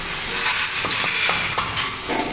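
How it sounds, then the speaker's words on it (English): Tomatoes frying in a buttered pan, a steady loud hiss of sizzling fat with a few brief crackles and pops close up, and no voices. "I'll just pop in some tomatoes in the pan"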